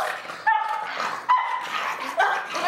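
A dog barking three times in short, sharp, evenly spaced bursts, close and loud, with a whiny, yelping edge and light background noise between them.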